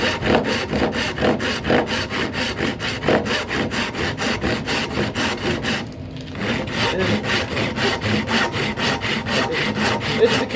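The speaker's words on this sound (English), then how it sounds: "I actually using my rip and cross cut tenon saws" Hand sawing wood with a rip-filed tenon saw, close rhythmic rasping strokes in a steady back-and-forth rhythm, with a brief pause partway through before the strokes resume, no talk.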